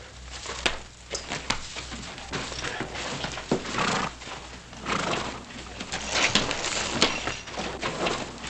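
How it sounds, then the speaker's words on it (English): A horse moving nearby, hooves clopping irregularly on the ground, with snorts and shuffling throughout at a moderate level. "I'll take care of your horse."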